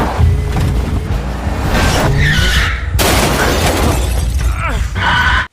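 Car chase with tyres skidding and squealing, loud continuous engine roar and screeching slides with crashing impacts, in The Round Up.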